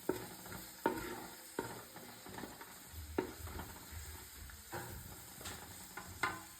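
Coconut, ginger and garlic frying in a pan for Kerala-style chicken, a soft steady sizzle with periodic clacks of stirring, close but fairly quiet, no voices.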